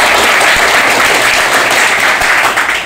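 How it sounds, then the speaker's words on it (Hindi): A class of trainees at an IC reball and remount repair course applauds their instructors with steady, close, loud clapping that fills the whole short stretch and fades slightly at the end. "एक बार फिरोज सर और दुर्गेश सर के लिए ताली बजा दीजिए।"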